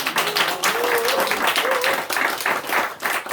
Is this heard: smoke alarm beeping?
no